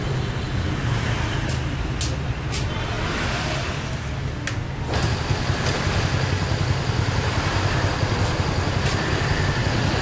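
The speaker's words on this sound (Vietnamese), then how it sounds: "bây giờ mình sẽ tiến hành mình nổ máy cho các bạn xem các bạn" A Honda Cub 86/90 motorcycle, rebuilt with a 100cc four-speed engine, runs at a steady, close idle in a repair shop. A few sharp mechanical ticks sound over the even putter.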